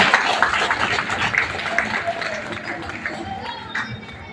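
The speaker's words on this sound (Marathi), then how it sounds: "खरं तर या महिलांसाठी एकदा जोरदार टाळ्या झाल्या पाहिजे" An audience at a Ramai Jayanti celebration claps for the women being honoured, a burst of lively applause that starts strong and gradually thins out.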